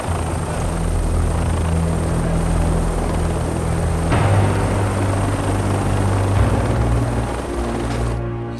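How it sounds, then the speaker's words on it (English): A helicopter runs loud and steady throughout, its rotor and engine drone holding constant with no voices on top. "Just getting out of the helicopter."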